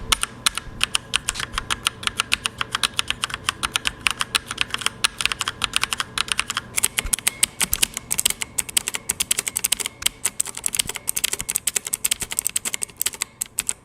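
Rapid typing clatters on a budget mechanical keyboard fitted with Otemu red switches, a dense run of crisp, close keystroke clicks in uneven bursts with no voices.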